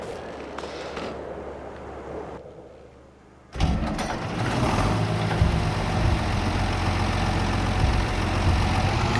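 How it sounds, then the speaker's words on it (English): An Ursus tractor with a fast transmission in Farming Simulator 22 first idles quietly with a low, steady hum. It then rises abruptly into a loud, sustained engine drone that holds steady to the end. "We'll get the Ursus out because it's the fastest tractor we have with the fast transmission"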